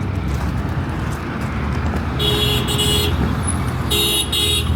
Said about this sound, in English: Why do they blow the horn so much?